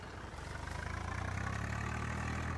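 A 5911 tractor in Farming Simulator 19 idles with a steady, low diesel rumble, close and continuous with a faint rhythmic throb, and no voices over it.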